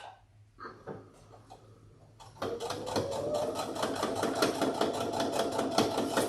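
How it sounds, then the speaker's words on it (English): A sewing machine top stitching a coin and key pouch: after a few slow single stitches it settles into a rapid, steady mechanical chatter of the needle, close and loud, with no talking. "we're just going to top stitch"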